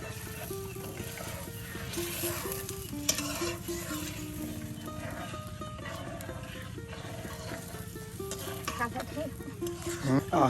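Spice paste for a pangas fish tomato bhuna curry being stirred and fried in a pan, with a steady close sizzle and scraping under ongoing talk.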